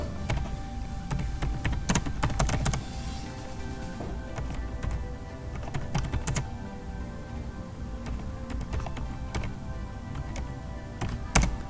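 Fingers type on a computer keyboard in quick irregular bursts of close, crisp clicks, pausing briefly between runs of keystrokes.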